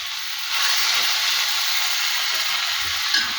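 A clam roast frying in a pan as spice powders go in, giving a steady, loud hiss and sizzle that swells after the first half second and holds, with no talking.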